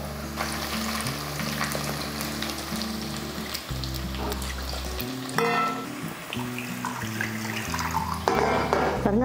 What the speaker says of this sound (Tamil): அதுக்குள்ளே வெங்காயமும் நல்லா வதங்கிட்டு இருக்கு பாருங்கள்